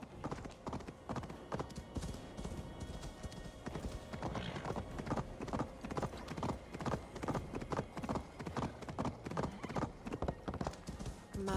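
Horse hooves clopping in Assassin's Creed Valhalla, in a steady, brisk rhythm, close and prominent, with a faint whinny partway through.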